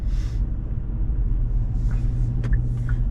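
A 2023 Kia Forte GT Line cruises along with a steady low road and engine rumble heard from inside the cabin, with a few faint ticks and clicks over the top.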